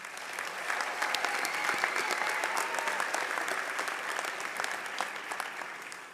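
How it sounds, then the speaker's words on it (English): Audience applause for graduates at a college convocation ceremony, a sustained, even wash of many hands clapping, moderately distant and without talk. "let's give them one more round of applause"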